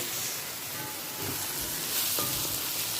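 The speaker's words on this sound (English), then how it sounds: "we are putting the green spices. I'm going to just fry" Green spices fry in a pan with onion and garlic, giving a steady, fairly soft sizzling hiss that swells slightly toward the end, with no voices.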